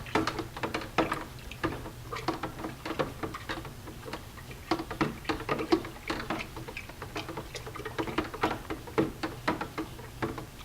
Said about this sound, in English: And you stir the crap out of it.